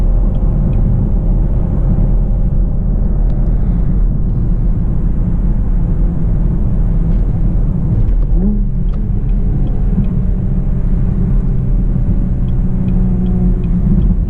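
Inside a Camaro V6 1LE cruising through Charlotte streets at night, a steady loud engine and road rumble drones continuously, with a brief rising engine note midway and no talk.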